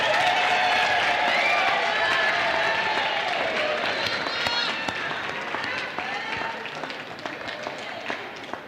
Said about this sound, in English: You may stand up and give yourself a round of applause.